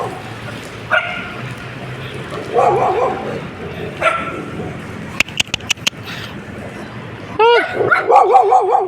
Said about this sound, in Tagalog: May aso pa dito